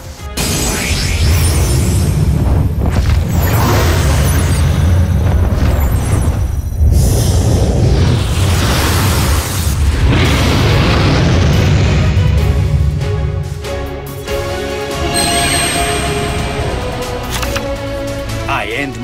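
Blue Eyes White Dragon's attack effect in the card game Yu-Gi-Oh! Duel Links erupts as a loud, sustained blast of booming whooshes and crackling bursts with a roaring low end, easing into a shimmering tail.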